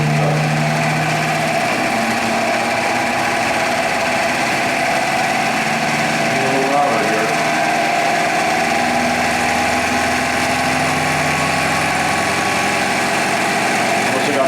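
A distributor turns on a Sun distributor test machine as it is brought up toward 1500 RPM, producing a loud, steady motor whine and hum that runs unbroken throughout with a slight shift partway.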